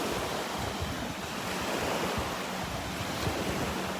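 Ocean surf breaks steadily on a beach at Delnor-Wiggins on a morning walk, a constant broadband wash with some wind noise across the microphone and no talking.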